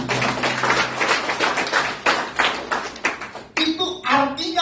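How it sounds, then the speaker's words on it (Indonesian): Church worshippers at a Sunday service clap their hands in a loose burst of sharp claps that runs for several seconds, and a voice talks over the end. "Tepuk tangan dulu dong"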